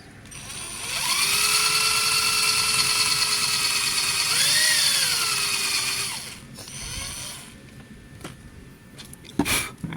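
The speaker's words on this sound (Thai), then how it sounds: "ผมเจาะเข้าไป" A power drill bores a hole during repair work on an electric bicycle, giving a loud, high whine that holds for about five seconds and dips briefly in pitch. Afterward come quieter handling clicks and a sharp knock.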